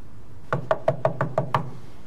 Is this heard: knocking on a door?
yes